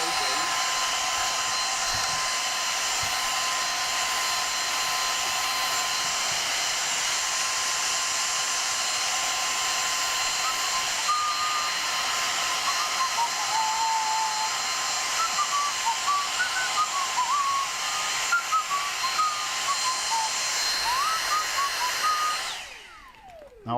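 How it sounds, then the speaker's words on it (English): A vacuum cleaner sucks dust off an older graphics card, a loud, steady, whining rush that runs without a break for over twenty seconds and then cuts off abruptly at the end. "get a vacuum and vacuum off as much of the dust as you possibly can"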